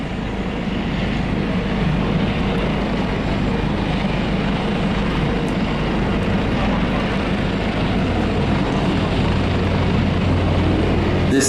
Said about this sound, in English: Der King Stallion erreicht 180 Knoten im Geradeausflug und 200 Knoten im Sinkflug.